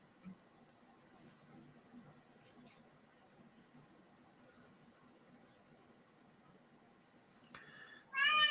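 A cat gives a short, clear meow close by right at the end, after a long stretch of quiet room noise with a faint sound just before it.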